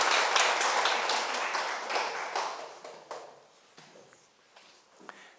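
A roomful of people at a Sunday Buddhist dharma service applauds, a dense burst of clapping that thins out over a few seconds into scattered, fading claps.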